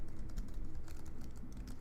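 Fast, steady typing on a covered computer keyboard gives dense, muffled key taps up close, with no voices.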